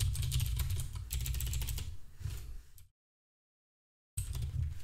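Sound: typing on a computer keyboard

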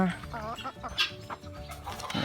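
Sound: chickens clucking while coming to eat food

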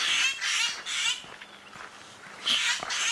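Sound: birds alarm calling at a snake in a tree

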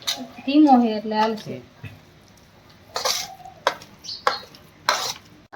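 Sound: stirring sweet mohanthal mixture in a pan with a ladle

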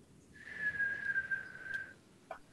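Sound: person whistling

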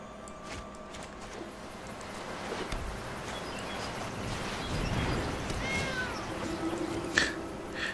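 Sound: cat acolyte meowing in a video game

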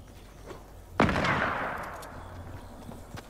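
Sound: gunfire from a tactical assault rifle and shotgun, video game

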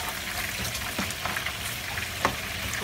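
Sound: stirring pasta with mayo

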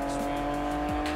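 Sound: car drifting with tire squeal in video game Need for Speed

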